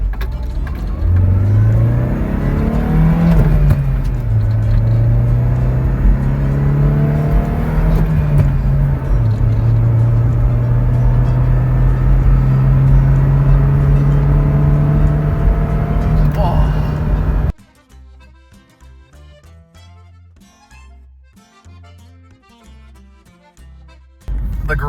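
A van engine drones and revs while driving, with a low grinding hum rising and falling beneath it, then it cuts abruptly to quieter, sparse tones.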